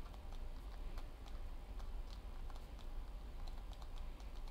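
Quiet, rapid clicking of a computer mouse or keys while playing Minecraft, irregular taps over a low background hum, no talking.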